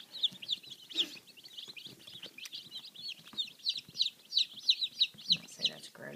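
Black Copper Marans chicks cheeping, a run of high, quick peeps that grows busier and more rhythmic toward the end, close by with faint background rustling.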